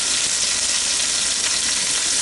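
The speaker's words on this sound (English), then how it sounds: "I want to sear these sides, all sides of it, and that's what you want to hear" Meat for pot roast sears in a hot pan with a steady, dense sizzle and crackle, close up and continuous, with no talking.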